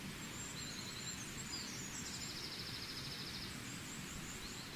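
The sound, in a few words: birds singing outdoors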